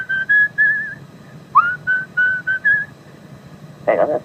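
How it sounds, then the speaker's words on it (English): A person whistles a short tune in clear, sustained notes with brief pauses between phrases, close and fairly loud, followed by a faint voice. "Just whistle us another bit."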